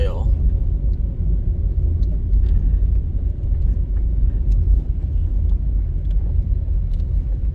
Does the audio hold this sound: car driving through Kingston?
yes